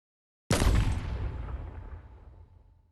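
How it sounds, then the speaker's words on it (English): A single sharp gunshot sound effect in an Arknights story narration, a loud sudden crack that decays into a long echoing rumble, heard alone. "That gunshot."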